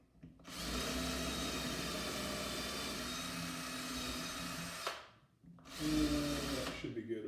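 Power drill boring holes in a rifle stock, a steady close whine lasting about four seconds, then a short pause and a second brief burst, with some speech mixed in.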